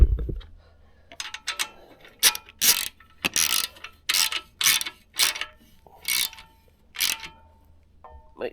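Ratchet wrench tightening the clamping bolts on the triple tree of a Yamaha TW200 motorcycle during a front rack install: a series of close, crisp clicking bursts in regular strokes, separated by brief pauses.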